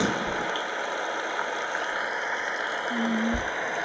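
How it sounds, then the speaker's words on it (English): Steady rain sound from a HoMedics SoundSpa white noise machine, a constant, dense hiss of falling water that stays even and loud throughout, with no voices. "And then we have rain."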